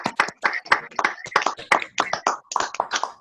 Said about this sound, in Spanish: vamos a aplaudir, ahora pueden abrir sus micrófonos